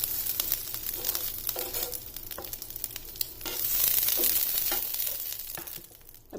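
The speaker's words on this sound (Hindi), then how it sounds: "अब इसी पैन में ग्रीन कैप्सिकम, येलो कैप्सिकम और रेड कैप्सिकम, इनको भी हल्का सा सोते कर देना।" Green, yellow and red capsicum sizzle and crackle as they are stir-fried in a pan, a steady close frying hiss broken by scraping and stirring strokes, with no talk.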